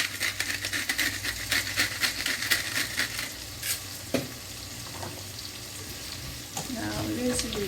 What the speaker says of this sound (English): Now we're going to give it a stir